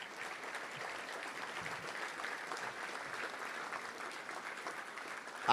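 Steady round of applause from a seated luncheon crowd honoring Touchdown Club founders and board members, dense continuous clapping held at an even level throughout with no talking.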